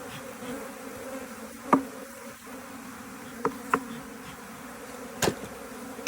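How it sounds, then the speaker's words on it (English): Agitated honeybees in an opened hive drone in a dense, continuous buzz, close and steady, with a few sharp taps and knocks standing out over the swarm. "These bees are not happy in the slightest"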